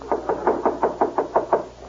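Eight steady, evenly spaced knocks on a door, firm and fairly close, with no voices over them.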